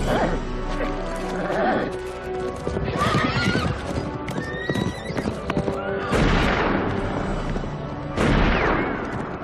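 A horse whinnies loudly several times while hooves clatter and stamp close by, with a dog barking briefly amid the commotion.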